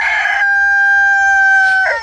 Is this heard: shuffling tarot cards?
no